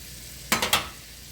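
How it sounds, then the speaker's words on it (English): Onions sauteing in an iron skillet: a faint steady background, then three quick scraping stir strokes close together, each a short bright burst of sizzle that fades. "I'm just sauteing right now the onions."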